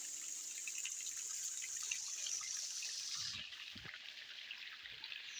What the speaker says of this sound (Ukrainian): шумом струмочка